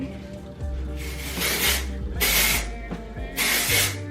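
Texture spray hisses onto hair in three short bursts, each a bright airy spurt with brief pauses between, close and fairly loud over faint background handling noise.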